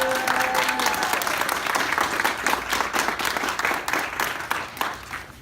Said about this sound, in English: Let's get a round of applause for everybody that came out here today.